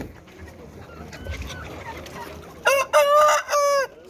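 A rooster crows loudly and close, a long drawn-out call near the end, after quieter clucking of egg-laying hens and barnyard background.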